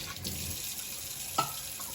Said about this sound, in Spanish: Ahora le agrego agua